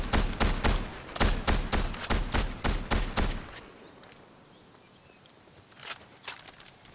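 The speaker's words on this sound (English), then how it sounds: "Who's shooting?" Gunfire in a Star Wars shooter game rattles off in a rapid burst of loud, repeated shots for about three seconds, then drops to a low rumble before a few scattered, fainter shots return near the end.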